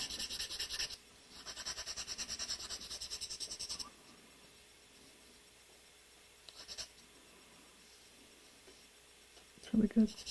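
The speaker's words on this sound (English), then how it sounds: "Give it a sanding." Hand sanding of a carved wooden shape, with steady close rasping strokes in bursts followed by quieter stretches, a few isolated scrapes, and a brief louder knock at the end.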